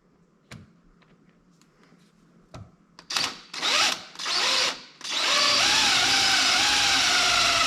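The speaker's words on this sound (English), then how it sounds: "drill your hole" After a few quiet clicks, a power drill with a number 21 bit whirs in short bursts, then runs steadily at full speed, loud and close, drilling a center-punched hole for a skid plate on a Factory Five MkIV Roadster.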